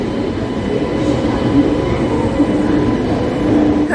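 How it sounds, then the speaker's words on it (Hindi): A train stands and rumbles at a railway station platform, a steady loud mechanical drone with faint high squeals and clanks mixed into the busy ambience. "हमारी ट्रेन आ चुकी है"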